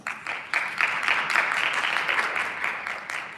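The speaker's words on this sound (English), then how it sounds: "So give yourselves a round of applause" Audience applause at an environmental careers event, a dense, even patter of many people clapping together.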